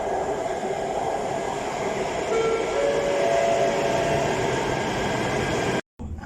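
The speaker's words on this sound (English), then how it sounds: "Here comes the train." A train rumbles steadily and close into a station in China, wheels grinding with a high metallic squeal, before the sound cuts off abruptly near the end.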